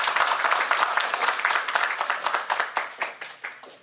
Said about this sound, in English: let's start from a big round of applause